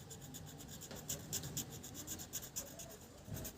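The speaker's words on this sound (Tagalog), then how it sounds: "Gasgasin nyo ng todo. Kung gunting lang gamitin nyo." A wire end is scraped with scissors to prepare it for attaching to a li-ion battery, giving faint, close, repeated short scratching strokes in a quick uneven rhythm.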